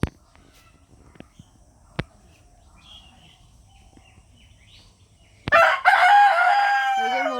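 A big red rooster crows loudly and close in a backyard chicken coop, one long harsh call breaking out after several seconds of quiet with a few faint clucks and knocks.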